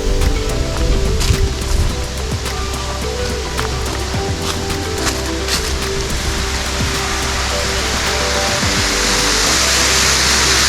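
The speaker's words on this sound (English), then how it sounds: "That's a big waterfall, baby. Looks like it's a tall waterfall," A tall waterfall of roughly a hundred feet on the Fiery Gizzard trail, a loud, dense, unbroken rush of falling water filling the scene, steady and close with no talk.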